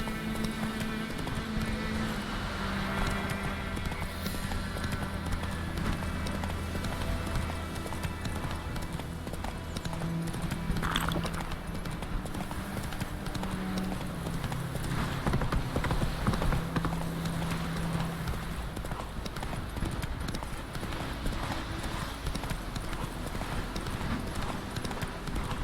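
Steady galloping hoofbeats from Roach, a horse in the video game The Witcher 3: Wild Hunt, run continuously beneath a sustained musical score, with a faint whinny at one point.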